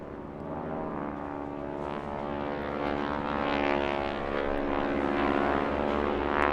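Propeller aircraft flying a wingwalking display at the English Riviera Airshow, its steady engine drone loud and continuous with a slowly swelling, pulsing tone throughout, no voices.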